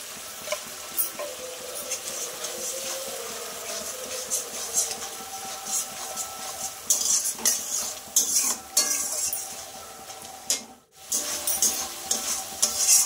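Spatula stirring spice paste for a Bhola fish curry in oil, with repeated scraping and clinks against the pan over a steady close sizzle. A brief pause comes near the end before the scraping resumes.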